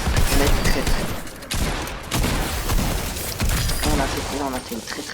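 Grenade blasts and gunfire in an arena video game match crackle in dense bursts and booms, loud and close, with a few brief gaps between volleys.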